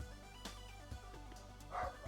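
Daisy the dog gives a few short, quiet barks and yips indoors, spaced over a couple of seconds, faint against a soft background hum.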